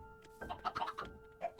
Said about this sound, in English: Get out of the way, chicken.